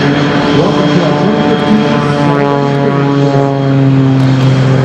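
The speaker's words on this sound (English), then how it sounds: "flying this beautiful airplane" MXS aerobatic propeller airplane flying at an air show, a loud, steady droning engine and propeller roar that holds throughout, close and continuous with no talk.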